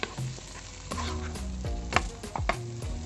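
Pasta and broccoli are stir-fried in oil in a pan, giving a steady close sizzle broken by scraping and stirring knocks from a utensil against the pan, with no talking.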